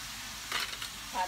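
Pork stir-fries in a pan, a soft, brief sizzle with a few scraping stirs at low volume and no talking.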